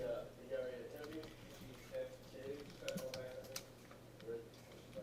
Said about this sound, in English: I'm going to type btn for button underscore say hi